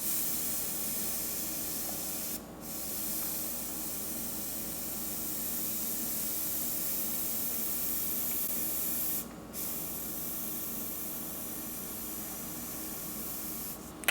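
Close, steady hiss of an airbrush spraying paint, continuous for the whole stretch apart from two brief dips where the airflow cuts out, with no voices.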